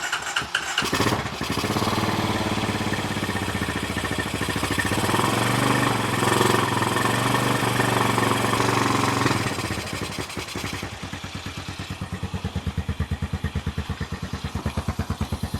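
A 2022 Honda Recon ATV with a suspected carburetor problem cranks and catches, revs loudly and unevenly, then settles into a rough, pulsing, stumbling idle close by, with no talk over it.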